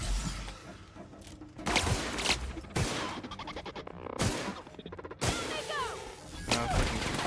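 Scattered gunshots and sharp impacts in The Outer Worlds video game, fairly quiet, arriving as separate bursts with short gaps and mixed with clattering game effects.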